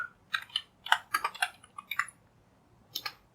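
A computer keyboard clatters close by as a short command is typed, in quick irregular bursts of keystrokes with brief pauses between them and no voices.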